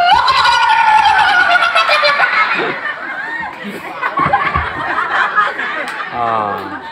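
A person at a comedy pageant intro imitating a turkey's gobble with a warbling, rapid vocal trill, loud and close, followed by chuckling and some speech.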